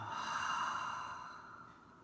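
A slow, soft exhalation during a children's breathing meditation, one long breath out that fades gently over a steady background hum.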